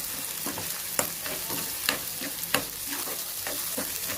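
Masala frying in a pan for a village-style cluster bean curry, a soft continuous sizzle broken by regular scraping strokes of a spoon stirring it, close and fairly quiet.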